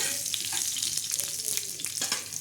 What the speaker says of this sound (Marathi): आपण तव्यावर कढीपत्ता टाकलेला आहे